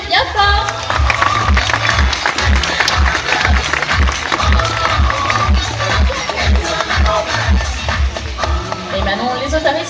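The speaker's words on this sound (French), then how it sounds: "Nous pouvons les applaudir bien fort." Crowd clapping at a sea lion show at Zoo de Beauval, a loud continuous patter of many hands over a low rhythmic thumping beat, with a voice speaking over it.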